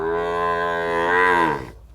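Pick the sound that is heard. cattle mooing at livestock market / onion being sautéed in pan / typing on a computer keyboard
cattle mooing at livestock market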